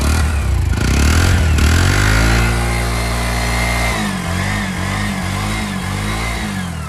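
A Bajaj CNG auto-rickshaw from Uttara Motors in Bangladesh runs with a steady, loud engine drone and a few revs. No one speaks.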